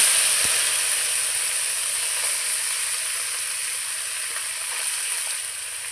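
Dry vegetable chachchari frying with cumin in a pan, a steady close hiss and sizzle running throughout with no talking.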